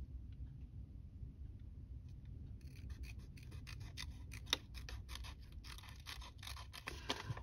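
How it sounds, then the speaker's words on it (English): Tiny scissors snip paper for a junk journal, a rapid series of crisp, close cuts that start partway in and continue steadily over a low background rumble. "Now I just need scissors."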